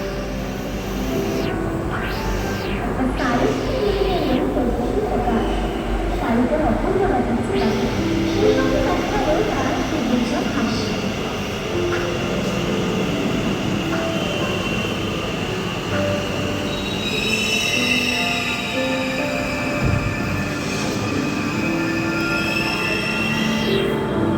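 A Kolkata Metro train pulls into a busy underground station, a steady loud rumble of wheels and motors with high metallic squeals rising near the end, while crowd chatter and voices carry underneath.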